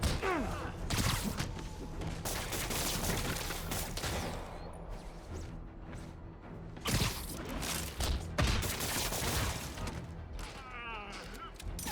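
Gunfire in Marvel's Spider-Man during a bank heist, scattered shots and thuds mixed with combat effects and brief booms, rising and falling in bursts over a busy game soundtrack.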